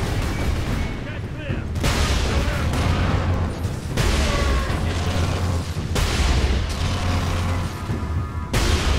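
A heavy weapon in Warhammer 40,000 Space Marine fires in several loud, booming bursts about two seconds apart, each blast cutting in sharply over a constant rumbling din of battle.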